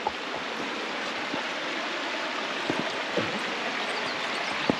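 A river rushes over rocks in a steady broadband wash, close and continuous, with a few brief splashes and gurgles standing out; no one speaks.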